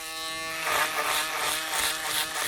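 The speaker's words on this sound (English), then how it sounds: "What the hell is that? It's a foil shaver." An electric foil shaver buzzes steadily and close, its hum swelling and wavering as it moves across skin, with no talking over it.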